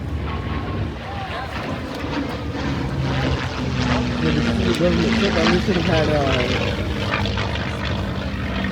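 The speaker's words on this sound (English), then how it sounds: "as our high power fighters begin to make their way down" WWII propeller fighter planes, including a P-51D, fly overhead at an air show, a loud droning engine roar with rising and falling pitch sweeps as they pass, mixed with crowd noise and people talking.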